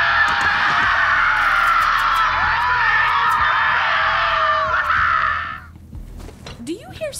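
A loud sustained scream in the video game Borderlands 3 holds for about five seconds and then cuts off, followed by faint rustling and a short rising squeak.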